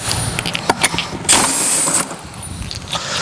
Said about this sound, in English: take a 7/8 socket and remove the lug nuts